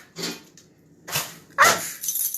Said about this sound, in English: say hi to my dog, everybody.